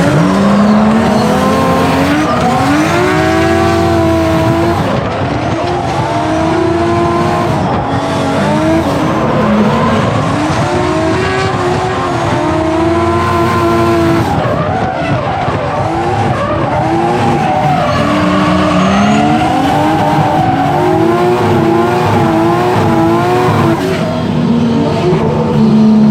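A 350hp Nissan R32 Skyline drifts in a chase, its engine wailing and revving continuously while tires squeal loudly and steadily, a dense, sustained roar with rising and falling pitch throughout.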